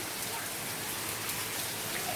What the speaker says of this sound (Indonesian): Jadi sekarang jam 4 sore, kondisi depan hujan deras.